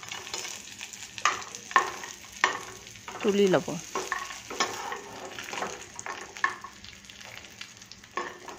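Cashews and raisins fry in a spoonful of ghee in a hot wok and are stirred, giving a quiet sizzle broken by scraping strokes of the spoon, while someone speaks briefly.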